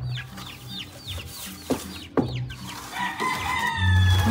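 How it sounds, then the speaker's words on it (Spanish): Chickens cluck and chirp continuously nearby while a rooster crows, with a couple of sharp knocks partway through. "Acá están los demás pollitos"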